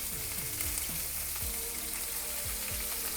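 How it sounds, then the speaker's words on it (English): Beef searing in a hot pan for boeuf bourguignon, a steady close sizzle and crackle with no talk, broken by a few low thumps and scrapes as the meat settles. "Sear the meat."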